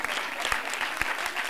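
An audience applauds at a stage audition, a dense, steady patter of clapping hands filling the whole moment.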